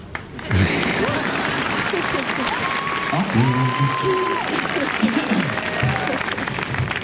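A graduation audience for Randolph High School's class of 2011 bursts into sustained, loud applause, with cheering voices and whistles carried over the dense clapping from start to finish.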